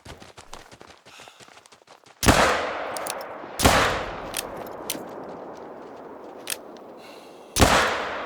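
Rifle shots in the hunting video game The Hunter Call of the Wild while facing an angry hog, three sharp loud blasts spaced apart, each trailing into a long rumbling echo, with rustling footsteps before the first.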